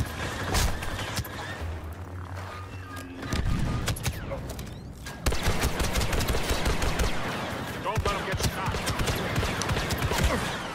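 Video game gunfire rattles in rapid bursts and single shots close up, nearly continuous over the whole stretch with a brief lull in the middle.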